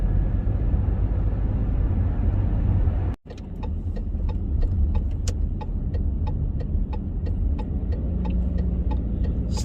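Car driving along a road with a steady low engine and tyre rumble from inside, a brief dropout, then a regular ticking like a turn signal clicking over the drone.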